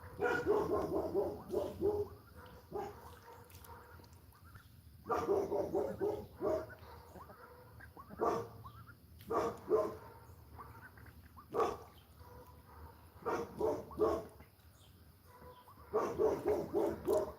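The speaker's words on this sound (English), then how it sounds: "Don't know what she's barking at." A dog barks repeatedly in irregular bursts of several sharp yaps, pausing between volleys, fairly close and moderately loud.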